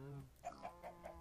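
Minecraft chickens cluck in a farm pen, four short clucks in a steady run, soft and close, with a faint voice underneath at the start.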